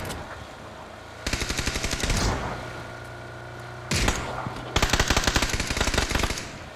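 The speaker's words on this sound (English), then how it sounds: "that shot made me sit up" Automatic gunfire sounds in a shooter video game: a long rapid burst, a short pause, then more bursts of rattling shots, some close and sharp, over a low steady game background.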